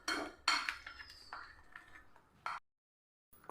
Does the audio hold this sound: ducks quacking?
no